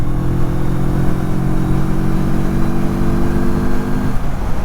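Moto Morini Seiemmezzo motorcycle pulling hard in sixth gear at highway speed, a loud steady engine drone with wind rush that holds constant for several seconds and eases near the end.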